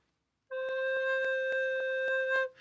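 A recorder sounds its lowest note, low C, as one steady, soft tone held for about two seconds with faint breathy pulses, alone and close, then stopping abruptly.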